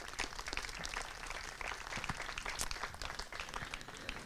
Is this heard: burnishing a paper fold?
no